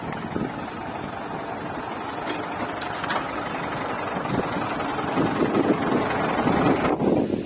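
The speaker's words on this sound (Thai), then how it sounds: "ลมแรงมาก" Strong wind buffets the microphone outdoors beside a Ford 6600 tractor. The rumbling, roaring gusts are loud and constant throughout, with no clear speech.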